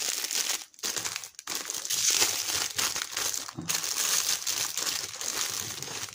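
Packaging crinkles and crackles continuously as a parcel holding tea sachets is opened, close by, with brief pauses between bursts of rustling plastic and paper.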